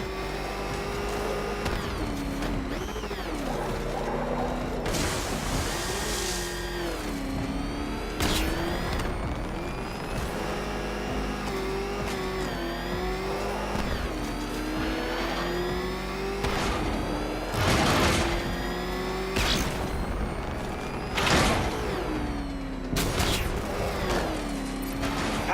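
Batmobile engine in the video game Batman: Arkham Knight, a loud, continuous roar that rises and falls with repeated revving and shifting pitch, broken by bursts of crashes and mechanical impacts throughout.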